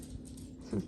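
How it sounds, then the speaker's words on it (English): A pet dog gives a brief whimper near the end, a short close whine over quiet room noise at a kindergarten orientation. "Sorry, that's my dog."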